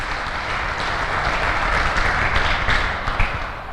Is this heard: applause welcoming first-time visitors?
yes